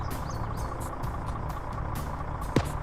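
Steady low rumble of a truck engine in a video game match, constant and fairly loud beneath scattered higher clicks and one brief sharp sound near the end, with no talk.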